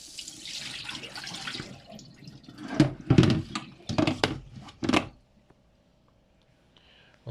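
Cloudy rinse water from Japanese rice is poured off into a sink, a splashing gush followed by several short, uneven pours and splashes before it falls quiet.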